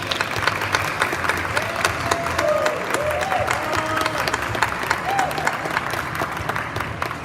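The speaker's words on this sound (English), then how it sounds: "if we could give one more round of applause for our student models and our staff models" A large audience applauds steadily for several seconds at a fashion show, a dense wash of clapping with a few voices mixed in underneath.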